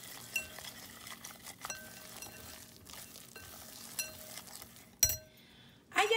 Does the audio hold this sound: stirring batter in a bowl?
yes